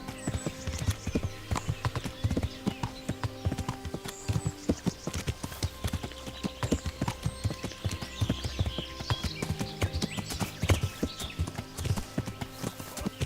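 A horse gallops in the video game Kingdom Come: Deliverance, a fast steady clip-clop of hooves running throughout the clip with a brief whinny, moderately loud and close, with no talk.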